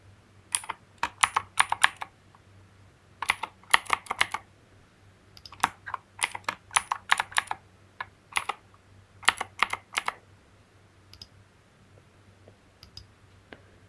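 Someone types a new password on a computer keyboard in bursts of rapid clicking keystrokes, with short pauses between groups, close and clear with a faint steady hum underneath and no talking.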